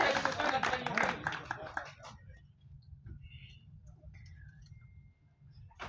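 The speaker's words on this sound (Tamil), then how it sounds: "ஐ திங்க் அவங்களுக்காக ஒரு உற்சாகமான கைத்தட்டல் கூட கொடுக்கலாம்னு நினைக்கிறேன்" A burst of crowd applause for a team on stage at a film event, busy and fairly close for about two seconds before fading into low room murmur, with a few scattered claps near the end.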